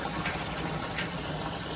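Water from an outdoor kitchen's waterfall splashes steadily into a small splash pool, a continuous close broadband rush with no talking.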